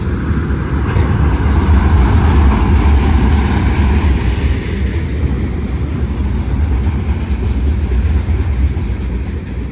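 Union Pacific freight train hauling wind turbine base parts rumbles past close by, a loud continuous roar of wheels and railcars that holds steady throughout.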